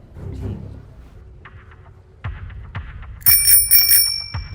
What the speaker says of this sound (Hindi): ओए राहुल, तूने घंटी बजाई है क्या?